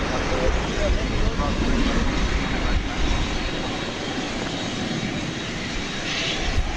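An American Airlines passenger jet taxis at DFW Airport at night, a steady engine roar and whine rolling close by with a slight swell, while people talk faintly in the background.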